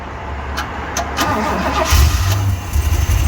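A 1978 Ford F100 Cleveland V8 cranks with a few sharp starter clicks, then fires and settles into a rough, loping idle up close, no talk over it.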